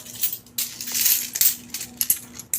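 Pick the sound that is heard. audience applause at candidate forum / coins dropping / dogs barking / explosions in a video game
coins dropping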